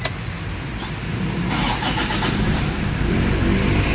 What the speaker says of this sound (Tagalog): start natin makina guys